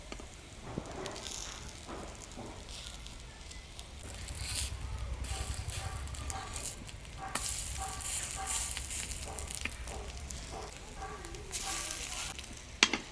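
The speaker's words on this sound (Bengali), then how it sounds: "ডিমটা ভাজা হয়ে গেছে" Fish roe frying in a pan gives a soft, continuous sizzle with faint crackles and the occasional scrape of a metal spatula, fairly quiet and with no talking.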